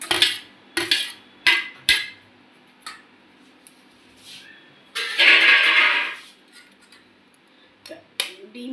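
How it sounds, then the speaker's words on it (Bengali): An egg is cracked into a cooking mixture of ginger, green chilli, garlic paste, coriander leaves and onion, heard as a series of sharp taps and clicks against a bowl, with a brief louder scraping burst in the middle. "ডিম ফাটিয়ে দিলাম"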